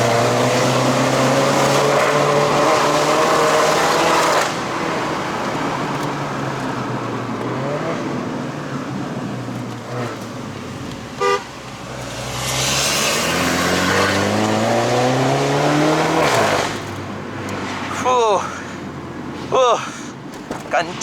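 A MINI John Cooper Works F56 hatchback climbing a mountain road in Malaysia, its engine droning loud and close inside the cabin, revving up and dropping through gear changes and easing off as power is cut, with a few sharp clicks late on.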